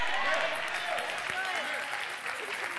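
A church congregation claps steadily and fairly loudly through the whole stretch, with scattered voices calling out over the applause.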